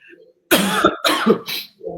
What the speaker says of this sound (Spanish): Dame un segundo porque voy a tener que toser